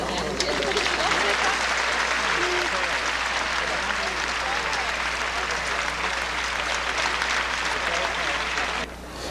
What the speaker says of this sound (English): Let's give a hand to this beautiful group.